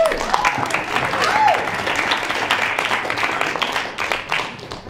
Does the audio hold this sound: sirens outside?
no